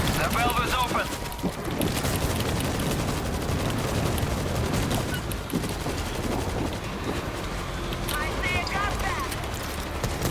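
Dense, continuous battle noise from the zombie shooter World War Z in Moscow: rapid gunfire, booming blasts and chaotic clatter layered together throughout, loud and busy with no pause.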